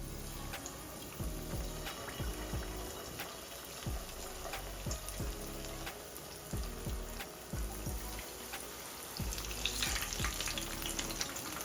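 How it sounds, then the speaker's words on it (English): Chicken pieces frying in hot oil in a pan: a close, steady sizzle and crackle with bursts of spattering and occasional stirring clatter, no voices. "then we can start frying by loading them to the frying pan slowly"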